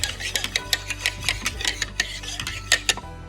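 A dough whisk stirring sourdough starter into water in a bowl, rapid rhythmic scraping and clinking strokes, close and clear, with no talking.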